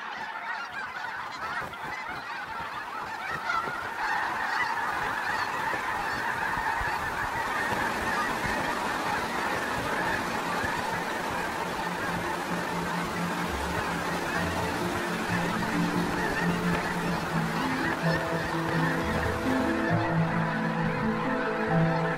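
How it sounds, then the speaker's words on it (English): A large flock of snow geese honking continuously, a dense overlapping chorus of calls that grows fuller and louder as it goes on. "Snow geese are highly sociable and travel in large flocks"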